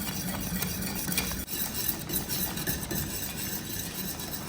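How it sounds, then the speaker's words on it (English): Tiger nut milk pudding being stirred in a pot, a steady close scraping and swishing with a soft bubbling, gentle cooking noise throughout and one brief knock partway through. "You go ahead and stir it and make sure that it has been mixed well."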